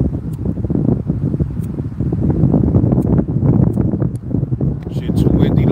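Strong wind roars and buffets the microphone continuously, with a voice talking underneath and occasional faint clicks.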